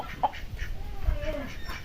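A chicken clucks a few times at close range amid a faint outdoor hum, with a rooster and a young turkey nearby on a small backyard farm.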